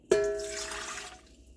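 A cup of lukewarm water is poured into a bowl, a short splash followed by a fading liquid rush that tails off within about a second.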